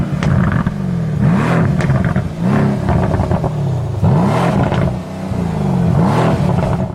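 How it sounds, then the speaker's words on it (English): A Mercedes-AMG C63 S with its twin-turbo V8 revs hard in several repeated bursts, each rising and falling in pitch, loud and close with brief dips between pulls. "And now, the Mercedes-AMG C63 S and its legendary V8."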